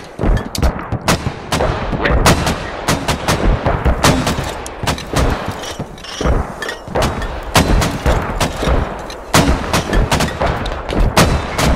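Heavy mortar barrage in the military shooter Squad: a dense, continuous run of loud booming impacts and sharp gunfire cracks, overlapping rapidly throughout with no pause.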